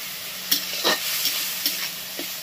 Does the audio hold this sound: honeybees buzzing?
no